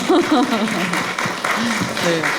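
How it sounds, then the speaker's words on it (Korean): Audience clapping at a talk concert with Sejong City's mayor, partly buried under a clear speaking voice that carries over the applause from start to end. "박수 한번 보내주십시오"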